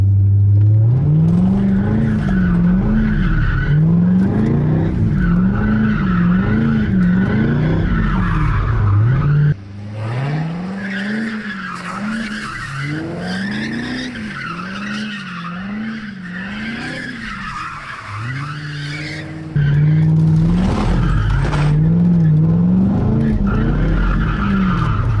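A C5 Corvette with traction control switched off screeches its tires in long wavering squeals over a roaring, revving V8, loud and close, with a brief dip in intensity midway before the skid returns at full volume.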